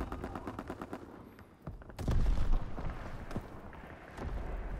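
Gunfire in Call of Duty WWII during a defensive battle, rapid bursts of machine-gun fire and scattered rifle shots with a heavier blast midway, dense and fairly close.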